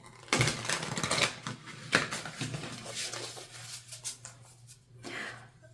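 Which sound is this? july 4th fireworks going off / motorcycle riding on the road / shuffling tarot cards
shuffling tarot cards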